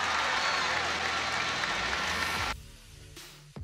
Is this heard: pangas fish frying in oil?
no